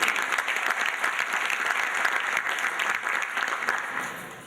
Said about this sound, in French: je vous demanderai même en fait de les applaudir pour l'excellent travail qu'ils ont fait